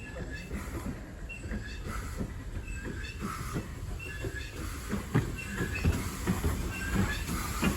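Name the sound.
steam train pulling carriages, South Devon Railway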